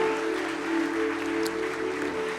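A church congregation claps together in steady, dense applause that fills the room, sustained and fairly loud throughout with no one speaking over it.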